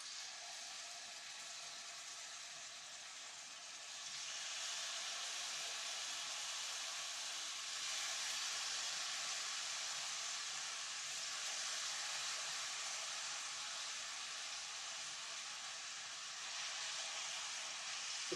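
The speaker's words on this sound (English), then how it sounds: "I'm going to go in there and throw it in the hot oil" Chicken and rice sizzling in hot oil in a pan, a steady broad hiss and crackle that swells after a few seconds and holds close and even throughout.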